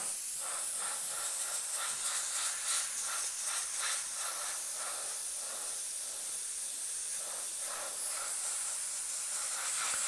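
An airbrush sprays opaque paint in a continuous, steady airy hiss, close and even in level, with faint pulsing as the spray is worked back and forth; no talking.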